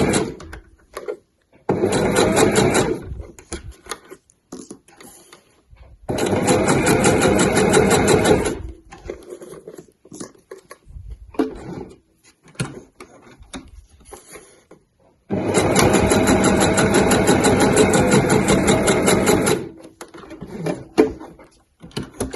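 A sewing machine stitching a bag strap with normal weight thread, heard as close, fast mechanical whirring in three long bursts with a short one at the start, separated by quiet pauses and small handling clicks.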